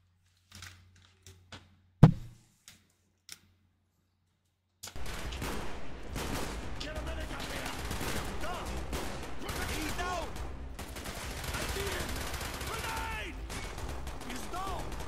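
Dense, sustained automatic gunfire from the Call of Duty Black Ops campaign erupts after a few sparse taps and a sharp shot, continuing loud and steady as a battle soundscape.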